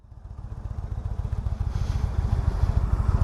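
A 2016 Indian Roadmaster motorcycle pulls away and turns in a tight spot, its engine thumping in quick, even pulses that grow steadily louder and denser over a few seconds.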